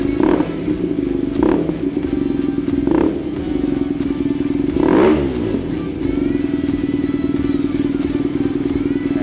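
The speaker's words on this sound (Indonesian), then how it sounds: "mesin boxer tuh motornya tuh akan goyang." BMW R nineT motorcycle with a boxer engine idling steadily at close range, with a few brief revs rising over the constant low throb.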